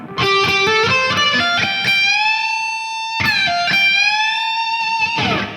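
Electric guitar lead phrase from a guitar solo, with notes bent up a whole step and held with vibrato, played alone in two sustained, singing runs.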